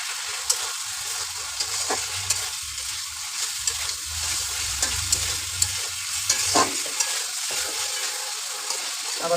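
Ground spice paste of garlic and cumin fries in a pan with a steady close sizzle, punctuated by frequent scraping stirs and small spattering pops, no talking.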